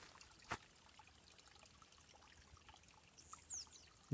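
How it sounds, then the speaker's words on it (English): A small creek runs through a garden, giving a faint, steady trickle of moving water, with a sharp click early on and a brief high chirp near the end. "So you have this little creek here."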